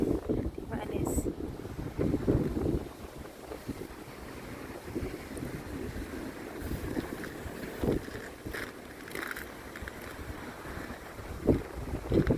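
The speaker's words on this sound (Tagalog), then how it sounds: "Lamig ng hangin, grabe." Cold winter storm wind buffets the microphone in strong, steady gusts with a low rumble that swells and eases, and a person speaks briefly over the blustery roar.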